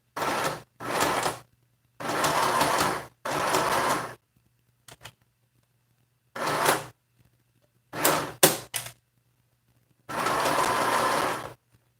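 A sewing machine stitches a fabric mask in several rapid whirring bursts of varying length, separated by silences and a few brief clicks, with a low steady hum underneath.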